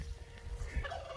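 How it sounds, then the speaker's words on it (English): A turkey gobbles from a spring roost outdoors, one short rattling burst over a low rumbling background, moderately distant and faint. "Turkeys."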